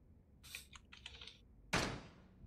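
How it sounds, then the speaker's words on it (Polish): Quick, quiet clicks rattle off in a short flurry while Yakuza 0 is being played, followed by a single sharper, louder click at the end. "Boże, ile klikania."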